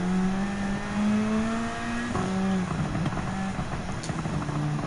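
Porsche 911 RSR Type 991 2017 race car engine in Gran Turismo 7, a loud steady high-revving roar with a gear change midway and the pitch climbing again, no talk over it.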